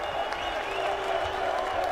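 A crowd at the 2018 Dutch MotoGP applauds and cheers the riders, a dense, continuous roar of clapping and voices with a commentator's voice over it.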